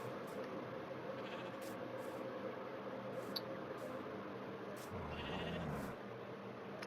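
A Minecraft sheep bleats once, low and nasal, near the end over quiet, steady game ambience.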